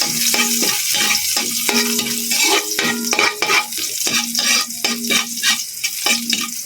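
Garlic browning in hot oil in a pan for ginataang tulingan, stirred with a utensil: a loud, bright sizzle is broken by repeated rhythmic scraping strokes, each with a brief metallic ring, close up and without talk.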